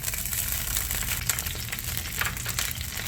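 Dried chilies frying in hot oil in a pan for salsa macha, a steady dense sizzle with soft crackles running throughout, close and even in level.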